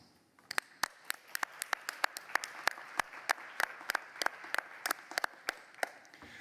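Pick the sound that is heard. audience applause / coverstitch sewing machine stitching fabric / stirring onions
audience applause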